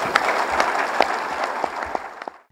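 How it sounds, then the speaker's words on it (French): A crowd claps in tribute to defence and security forces, a short burst of applause with distinct sharp claps standing out, tapering off quickly to silence at the end. "Je voudrais qu'ensemble, nous leur traduisions notre infini soutien à travers un tonnerre d'applaudissements."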